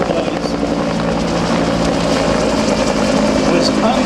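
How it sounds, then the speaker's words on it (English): Helicopter at a Vietnam battle reenactment air show, its rotor blades whacking in a loud, continuous, close drone with steady pulsing throughout. "the whack, whack, whack of the rotor blades"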